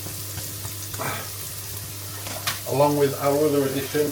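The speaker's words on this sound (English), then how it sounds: "I've added some olive oil into the pan on a medium heat, and I've chopped my other half of the onion up" Chopped onion frying in olive oil in a pan over medium heat, a light hiss with faint crackling stirred under a voice, which turns louder near the end.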